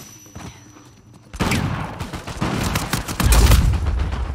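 An AK-47 fires in Uncharted 4 multiplayer, a loud sustained burst of rapid shots with booming impacts after a quieter start.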